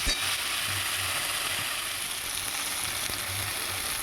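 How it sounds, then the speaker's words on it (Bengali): Tomatoes and spices sizzle and fry steadily in a pan for a fish and cauliflower curry, a continuous close hiss with faint low scraping as they are stirred, and no talk. "এখানে দুটো টমেটো আছে, এবার এটা নাড়াচাড়া করবো।"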